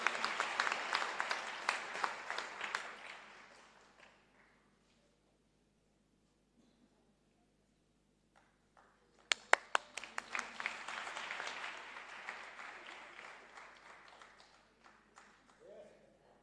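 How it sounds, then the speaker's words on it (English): Two bursts of audience applause at a bicycle distribution event, the first lasting a few seconds and fading to silence, the second opening with a few sharp claps before swelling into full clapping that tapers off. "Another applause, just to give him self-confidence."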